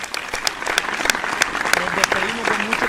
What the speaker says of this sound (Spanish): un aplauso para Maluma